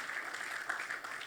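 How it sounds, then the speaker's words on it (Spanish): Church congregation applauding loudly during a sermon, a steady wash of clapping held at an even level throughout, with no voices rising above it. "Ese aplauso fuerte por haber organizado el Señor nuestra vida."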